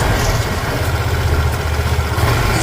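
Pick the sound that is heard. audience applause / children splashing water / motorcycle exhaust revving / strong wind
motorcycle exhaust revving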